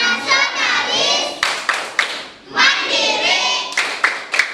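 A school class performs the rhythmic PPK clap, with sharp claps in a set pattern alongside loud group chanting voices that fill the room.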